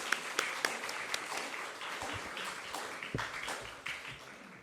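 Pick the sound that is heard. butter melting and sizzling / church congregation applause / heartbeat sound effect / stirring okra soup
church congregation applause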